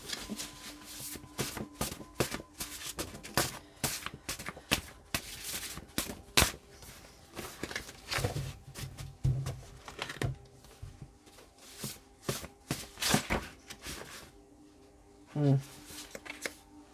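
Repeated riffling bursts of cards being shuffled, several quick crisp flurries spread throughout, with a voice speaking quietly underneath at times.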